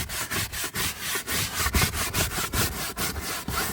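Car seat fabric being scrubbed with upholstery cleaner, a steady rhythmic back-and-forth brushing of about a dozen strokes, close and fairly loud with no talking.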